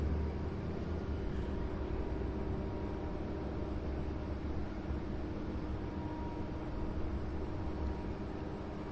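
Jet airliner at Louisville SDF airport, Kentucky, powering up for takeoff: a steady, loud broadband engine roar with a low rumble that holds constant throughout, no voices.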